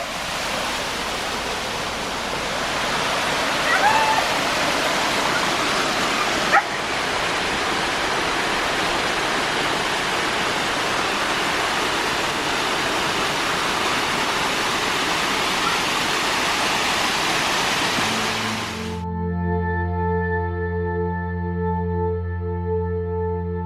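Jacob's Falls near Copper Harbor roars in a loud, steady rush of falling water heard up close, continuous for most of the stretch before giving way to a sustained tonal musical sound at the end.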